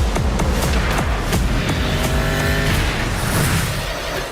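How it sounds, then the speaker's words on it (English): A loud car chase sequence from the film The Batman, with roaring engines, rumbling low motor noise and screeching tires, mixed with impacts and dramatic score, continuous throughout. "especially during the epic car chase scene, which was just amazing to watch in the movie theater"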